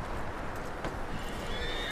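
A horse whinnies in a Red Dead Redemption 2 scene, a short neigh heard over a steady background with faint hoof clops.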